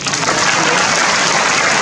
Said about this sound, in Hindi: हमारी तालियां बजाते लोग